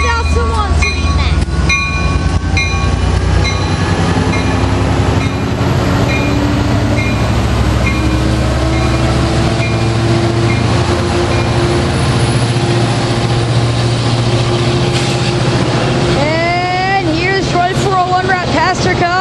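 A northbound Coaster commuter train pulls out of Encinitas Station with a loud, continuous rumble of wheels and engine. Squealing and clanking rise near the end, and voices talk over it.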